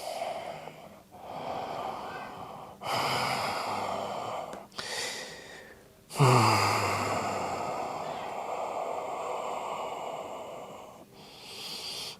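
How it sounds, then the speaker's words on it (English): Slow human breathing during a guided relaxation, with several long deep inhales and drawn-out exhales that come in broad separate swells, close to the microphone and with no talking over them. "Big inhale, slow exhale."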